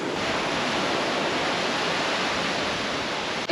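Big ocean waves surge and break steadily on a Phuket beach where people are surfing, a continuous loud broadband wash with no talk.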